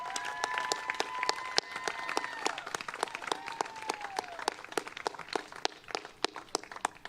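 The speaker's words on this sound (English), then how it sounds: "So with a big round of applause for Adrian." A congregation at a temple Shabbat service claps in sustained applause, a dense patter of many hands with sharp individual claps standing out, moderately loud and without a break, while a faint tone glides in the background.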